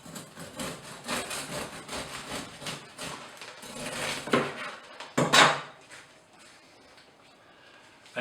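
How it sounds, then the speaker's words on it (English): A bread saw cuts through a warm loaf of dark bread, with close rasping strokes in a steady back-and-forth rhythm for about five seconds before things go quiet. "This is a bread saw."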